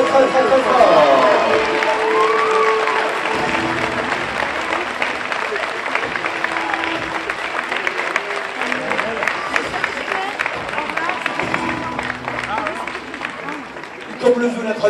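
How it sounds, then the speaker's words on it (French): An audience at a beauty pageant gala applauds loudly and continuously, a dense wash of clapping with some cheering and crowd noise that slowly tapers off. "Que vous applaudissez très fort."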